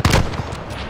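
A single loud sniper rifle shot in a first-person shooter game, a sharp close blast followed by a short decaying tail.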